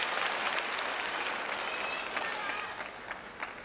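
Table tennis crowd at a world cup match reacts after a point with loud sustained applause and cheering that holds steady, then slowly tapers off with scattered claps.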